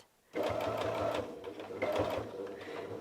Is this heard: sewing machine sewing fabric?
yes